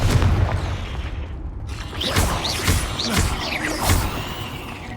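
Confringo fire spell blasts in the video game Hogwarts Legacy, several loud booming bursts in quick succession with crackling fiery tails, no talking.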